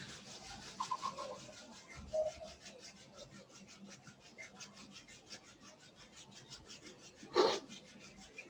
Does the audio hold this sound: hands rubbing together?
yes